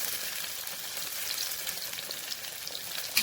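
Soya chunks, already boiled, fry in a pan with a steady, fine crackling sizzle throughout, moderately loud and close, with a slightly sharper pop near the end.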